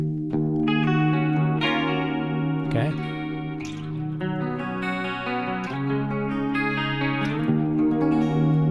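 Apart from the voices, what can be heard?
electric guitar with harmonic tremolo effect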